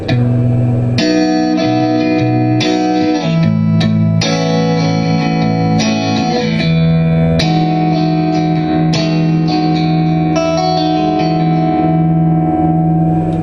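Bright, ringing electric guitar chords on the clean channel of an Egnater Tourmaster 4100 amp, strummed in sequence and allowed to sustain with a touch of reverb, loud and close.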